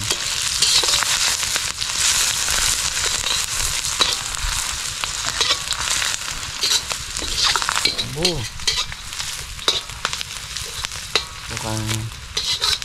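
Food sizzles and fries steadily in a pan with stirring and occasional utensil clinks, and a voice briefly speaks over it.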